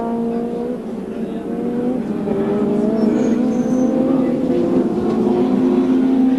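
A 1988 touring car races past at Winton circuit, its engine a sustained, rising drone that stays loud and steady, heard under a commentator's voice.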